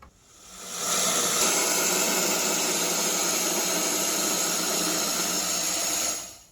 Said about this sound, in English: we're going to start off by cutting these down some on our bandsaw